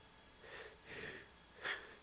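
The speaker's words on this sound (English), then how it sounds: "I can hear its slow and heavy breathing." Slow, heavy breaths sound close up, three drawn-out rasping breaths in a row, the last one sharper and louder.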